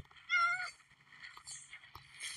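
A Minecraft cat gives a short, clear meow early on, high and tonal, with faint blocky in-game background sounds around it.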